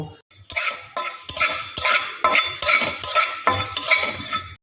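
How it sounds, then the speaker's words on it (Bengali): Coriander, panch phoron and cumin dry roasted in a pan, with repeated scraping stirs and light clinks of a spoon against the metal in a steady rhythm, close and fairly loud, with no talking. "এগুলো একসাথে আগে শুকনো খোলাতে একটু ভেজে নেব"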